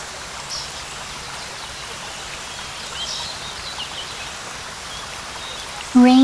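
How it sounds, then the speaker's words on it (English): Steady rain patters and hisses across a wide area, soft and continuous, with a brief tonal sound breaking in at the very end. "Rain begins to fall."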